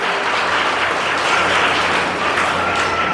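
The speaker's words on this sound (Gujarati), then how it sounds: "આપણે સૌ તેમનું તાળીઓથી સ્વાગત કરીએ" Loud, continuous applause from a gathered audience welcoming guests at a community event, dense clapping held at an even level throughout with no speech over it.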